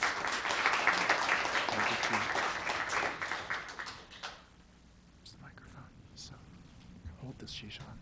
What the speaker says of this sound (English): So, a warm round of applause for Yishan.